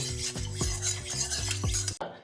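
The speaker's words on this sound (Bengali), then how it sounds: "তেলটা গরম হয়ে গেছে এখন আমরা এই গরম তেলটাকে কড়াইয়ের চারিদিকে ঘুরিয়ে নেব" Hot mustard oil swirled around a kadai before fish pieces go in, heard as a soft sizzle under about five rhythmic metallic scraping strokes, ending with a sharp clank.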